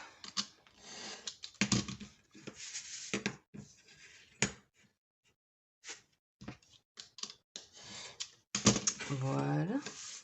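Paper for a mini photo album cover is cut at a craft table, with a run of crisp snipping and rustling clicks in irregular bursts, separated by short quiet gaps, with a voice briefly speaking near the end.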